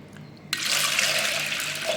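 Water starts abruptly and pours in a steady, loud, close gush into a pot of dal and black pepper being made into rasam, after a quiet moment. No one speaks.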